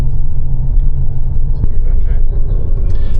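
A tour vehicle drives through Dublin streets with a steady, loud engine rumble and road noise throughout, a brief knock partway through, and faint voices mixed in.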